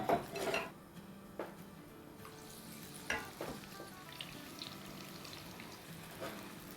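Potato wedges frying in hot oil, with a soft steady sizzle broken by clinks and scrapes of a utensil stirring against the pan, fairly quiet and close, with no talking.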